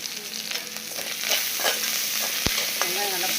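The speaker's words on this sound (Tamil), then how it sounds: "வெங்காயம் நல்லா பொருளாமல் வதக்கலாம்." Onions sautéing in oil with asafoetida and rock salt while making brinjal and raw mango sambar, giving a continuous bright sizzle with soft stirring scrapes and a sharp clink of the spoon against the pan.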